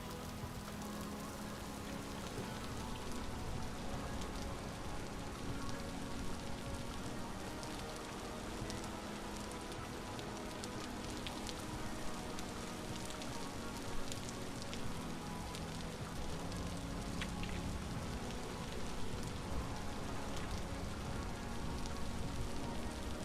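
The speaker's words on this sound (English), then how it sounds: "Rainy day here in the Northern Frog Alliance." Rain in Vintage Story, a steady hiss of drops on surfaces that holds for the whole stretch, even and moderately loud with faint music underneath.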